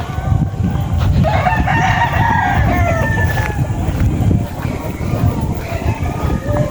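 A Papay Grey over Boston Roundhead rooster crows loudly and close by, its long call rising over steady farmyard background noise, with other fowl clucking around it.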